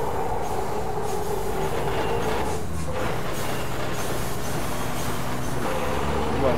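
Train passing in the Formula Truck Simulator 2013 racing game: a steady rumbling roll of rail cars with clattering wheels and faint squeals, continuous and fairly close throughout.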